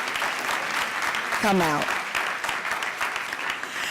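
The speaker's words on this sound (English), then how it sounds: "Let's give them a round of applause" Audience applause for the film's cast panel at a book-festival conference event, steady dense clapping throughout with a brief voice and a shout rising over it midway.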